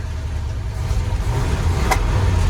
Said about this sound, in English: right there's the stutter. That was an exhaust pop.